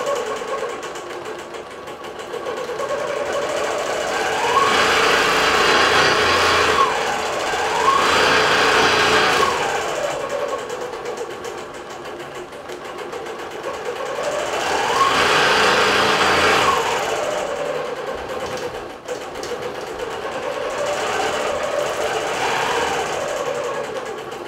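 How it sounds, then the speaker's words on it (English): A computerized quilting machine runs a stitched design on its own, whirring steadily with its pitch and loudness rising and falling in smooth sweeps as the head travels along the pattern. "press start, and the machine is going to take off and go"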